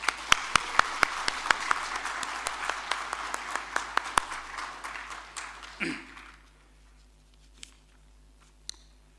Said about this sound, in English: Can we all give them another final loud round of applause?